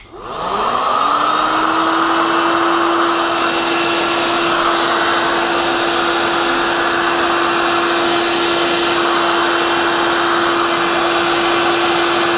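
A vacuum cleaner sucks sawdust off a workbench in a metal workshop, spinning up quickly and then holding a loud, steady whine with a constant rushing airflow, close and uninterrupted, no speech.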